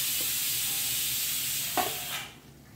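Fagla bhaji (spiny gourd) being stirred in a pan after coriander goes in, a steady dry sizzle with one spatula scrape partway through, close and alone.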